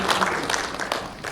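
Brief applause from guests at a breakfast seminar with Seoul's mayor: a short, even patter of many hands clapping at moderate distance, with no voices.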